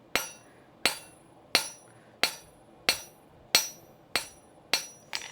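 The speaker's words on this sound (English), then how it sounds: "my hammer is going to land half on the anvil" Hammer striking a bar set half over the anvil edge in half-faced blows, eight sharp ringing metallic hits at an even pace of under a second apart, each decaying quickly, close and alone with no speech.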